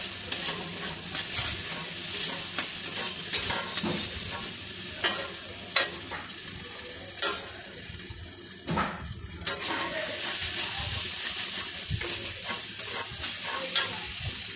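Fish and spices stir-fried in a pan for a Bengali yogurt catla curry: a steady loud sizzle with scraping stirs and clinks of the spatula throughout, no talking.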